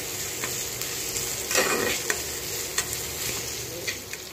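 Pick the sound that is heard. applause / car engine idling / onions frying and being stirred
onions frying and being stirred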